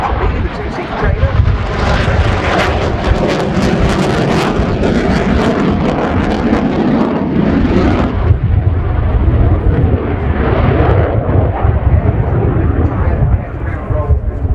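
Romanian Air Force MiG-21 LanceR C jet roaring loudly through a flying display at RIAT 2019, a continuous heavy engine rumble and roar that shifts in tone midway, with faint crowd voices underneath.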